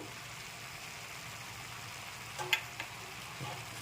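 Spinach and vegetables fry quietly in a pan as turmeric powder goes in, a faint steady sizzle with a few soft clicks of stirring near the middle.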